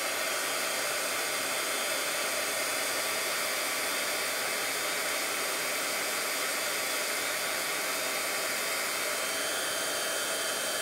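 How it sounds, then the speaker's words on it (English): An embossing heat tool blows hot air over embossing powder on a stamped card, a loud, steady, hair-dryer-like roar that runs without a break, with no speech over it. "I'm gonna bring in my heat tool. And I'm going to heat it."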